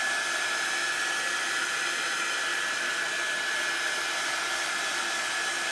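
A dryer blows steadily over a chalk paste transfer on a wreath, a constant loud whooshing roar that runs unbroken throughout with no talking.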